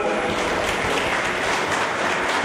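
Dense applause from a crowd at a Teachers' Day event, steady and loud, a continuous wash of clapping with no pauses.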